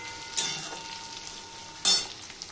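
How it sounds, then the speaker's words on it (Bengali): Chopped onion frying in hot oil in a home kitchen, giving a steady close sizzle with two sharper bursts of stirring, the second louder. "এবার আমি পেঁয়াজটাকে একটু লাল লাল করে ভেজে নেব।"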